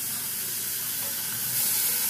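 Pork loin with garlic fries in its own fat in a pan over low heat, giving a steady close sizzle and hiss that swells slightly toward the end, with no talking.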